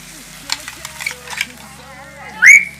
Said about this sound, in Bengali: আদা রসুন তেলের সাথে মেরে নেব।